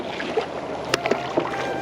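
A small fishing boat moves across creek water on a crab-net trip. Soft water sloshing runs under a few sharp knocks and splashes in a brief, close stretch.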